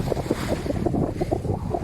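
Sailboat under sail at about five and a half knots, a steady rushing of wind and water against the hull with choppy splashes, close and continuous, with no voices.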